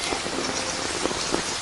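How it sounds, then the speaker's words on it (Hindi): Heavy rain pouring down steadily, a dense hiss of drops hitting surfaces with occasional louder splats, continuous and close with no talking. "इतनी बड़ी बारिश है, क्या हम पूरा और इंतजार करें?"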